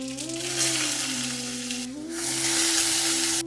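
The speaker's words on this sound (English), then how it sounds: "I've got some masala items, I'm adding them" Masala spices and onions sizzle loudly in a frying pan, a steady close hiss with stirring bursts, over a faint tonal hum in the kitchen.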